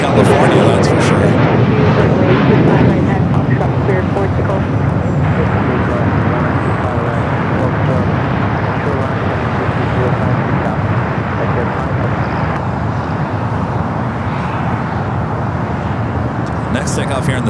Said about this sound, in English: Next takeoff here on the south side is FlexJet Flight 549 heading to San Diego at Challenger 300.